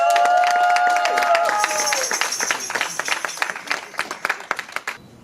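Audience applause and crowd noise for a performer at a French-language event, a dense wash of clapping that thins into scattered, uneven claps before fading.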